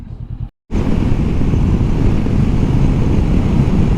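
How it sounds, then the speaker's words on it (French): Strong wind roars across open countryside near Lac du Salagou under a heavily clouded sky, a loud, steady rush buffeting the microphone after a brief silent gap at the start. "il y a énormément de vent"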